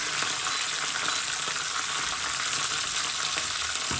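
Onions dropped into hot oil already tempering with curry leaves for a Jaffna-style mutton curry, giving a loud, even, continuous close sizzle with faint stirring texture and no talking.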